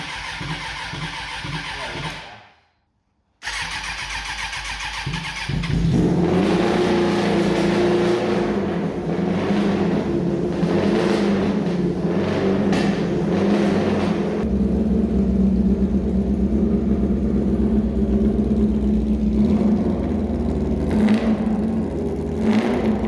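A Suzuki Bandit bobber motorcycle engine, just started on choke, runs close and loud; after a short cut-out it settles into a steady, even idle with a faint rising rev midway.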